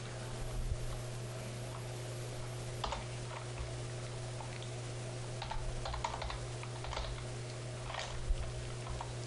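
Keys clatter on a computer keyboard in irregular bursts, close and fairly quiet, over a steady low electrical hum.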